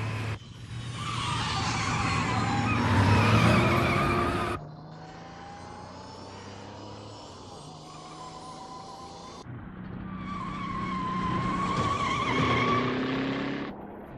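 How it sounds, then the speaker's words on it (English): Herbie, a Volkswagen Beetle race car, speeds along with a revving engine and squealing, skidding tires, loud and continuous across several cut segments with no talk. "Boy, that car can really move."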